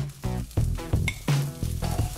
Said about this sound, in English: add the cauliflower florets, which you've cut into bite-sized pieces, and fry off until they start to take on some colour